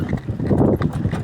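Hooves of a mare clip-clop in a quick uneven rhythm, close by, with a muffled low rumble underneath.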